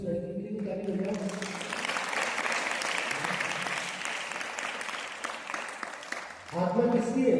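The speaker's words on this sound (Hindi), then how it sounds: "ताली बजाओ उस लड़की के लिए, ताली बजाओ" An audience at a religious discourse bursts into sustained clapping for a girl, dense and lively for several seconds before fading as a voice returns at the end.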